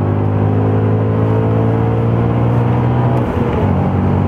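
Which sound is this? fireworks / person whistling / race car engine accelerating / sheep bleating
race car engine accelerating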